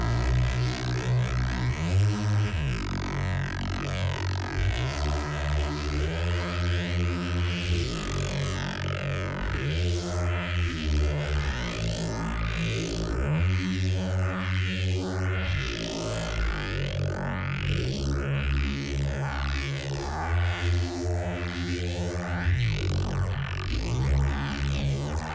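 Reese bass synthesizer patch, a thick, detuned, growling low tone with shifting, phasing sweeps, playing a sustained melodic bass line continuously and loudly with no speech.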